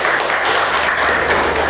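Applause from the audience at a university teaching assessment lecture, a steady dense wash of clapping filling the whole stretch at close, even loudness.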